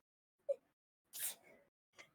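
A single sneeze from a player at a Dungeons & Dragons Spelljammer tabletop session, a short nasal burst followed by a sharper, breathy release and a faint trailing exhale in a quiet room.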